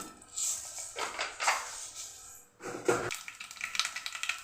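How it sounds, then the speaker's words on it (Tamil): Mustard seeds splutter in hot oil in a pan for avaraikkaai poriyal, a close crackle of irregular pops and bursts that pauses briefly midway, then resumes with sharp small snaps. "கடுகு பொரிஞ்சிருச்சு"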